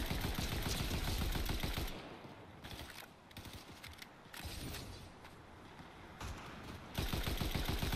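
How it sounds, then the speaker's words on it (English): Bursts of rapid automatic gunfire in a video game, loud at the start and end with quieter rattling shots in between, no talking. "someone's firing at us"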